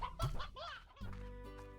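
Hens clucking in the Slime Rancher video game, a burst of clucks and squawks at the start followed by a steady tonal game hum with more faint clucking over it, with no talk.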